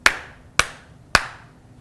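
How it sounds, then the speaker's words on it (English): Three single hand claps, sharp and close, evenly spaced about half a second apart, each ringing briefly before quiet. "3 claps, there's no rhythm in there."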